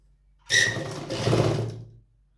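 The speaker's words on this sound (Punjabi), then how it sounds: "ਇਹਨੂੰ ਆਪਾਂ ਜੋੜ ਦਾਂਗੇ ਤੇ ਸਲਾਈ ਭਰ ਦਾਂਗੇ" Sewing machine stitching a salwar, a short steady mechanical whir of needle and motor lasting about a second and a half, close and fairly loud with no voices.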